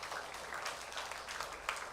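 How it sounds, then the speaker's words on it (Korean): Applause from a church congregation at a Sunday worship service, a steady, even wash of clapping that fills the room throughout without any voices on top. "우리 축하의 마음, 축복의 마음 담아서 박수해 주시기를 부탁드립니다"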